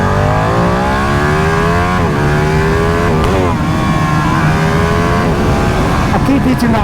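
A Ducati Panigale 959 motorcycle engine revs hard toward redline, loud and close, with its pitch climbing and dropping across several repeated throttle blips.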